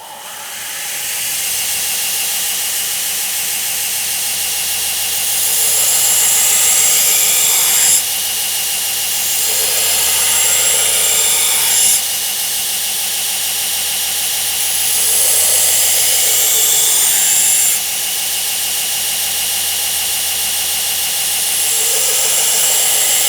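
A belt grinder roughs bevels into an integral Damascus steel chef's knife, giving a loud, continuous roaring hiss close by that swells and eases in repeated passes.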